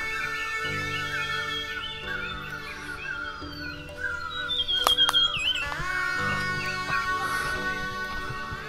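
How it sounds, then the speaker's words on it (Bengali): Many birds calling along a quiet hill road in Sillery Gaon, overlapping chirps, whistles and squawks from several directions, fairly close and lively, with a burst of sharper calls midway. "প্রচুর পাখি ডাকছে"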